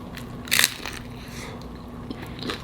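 A bite into a crunchy shrimp taco gives one loud, close crackling crunch, followed by a few softer crunches of chewing in an otherwise quiet room.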